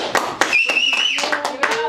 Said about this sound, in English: Crowd noise, crowd noise.